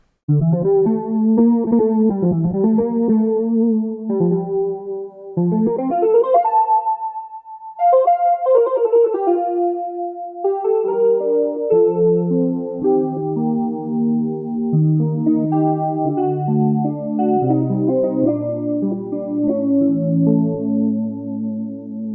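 Soundpaint 1974 Jagra virtual instrument playing a melodic line of sustained, harmonically rich tones with pronounced vibrato, sliding between pitches and later layering into chords, heavy with reverb and alone without voices.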